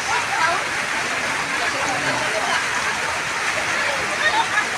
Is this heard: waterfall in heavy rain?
yes